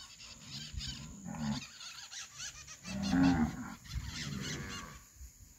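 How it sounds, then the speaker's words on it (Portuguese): Cattle moo repeatedly at a farm as a herd of calves comes in, several long, loud lowing calls close by, overlapping one another. "Vem uma bezerrada bem bonita."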